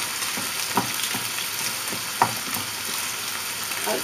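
Carrots with ginger and garlic stir-fry in a hot pan, a steady sizzle broken by a few sharp clicks of the stirring utensil, close and alone without talk.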